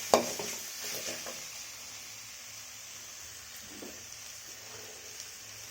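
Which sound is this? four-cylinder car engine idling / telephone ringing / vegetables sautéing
vegetables sautéing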